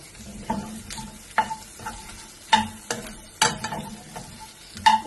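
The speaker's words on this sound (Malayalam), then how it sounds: "ഒന്ന് ഇളക്കി കൊടുക്കുക. ഈ വെളുത്തുള്ളി ഒന്ന് മുരിഞ്ഞ് വന്നോട്ടെ." Garlic fries in butter for butter garlic shrimp while a spatula stirs it, making repeated close scrapes and knocks at an uneven rhythm over a soft, steady sizzle.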